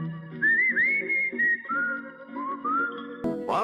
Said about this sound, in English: in the first episode the character defiantly whistles his band song.